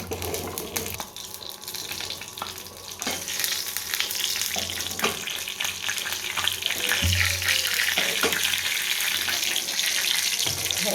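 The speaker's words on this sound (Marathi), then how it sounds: "आता पॅनमध्ये फोडणी बनवते मी जिऱ्याची तूप आणि जिरे" Cumin seeds sizzling in ghee in a pan as a tempering, a dense, continuous crackling hiss close by, with scattered clinks and knocks of a utensil throughout.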